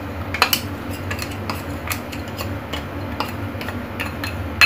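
A spoon scrapes and taps melted butter from a container into a bowl, a run of light clinks and scrapes close by, with no talking.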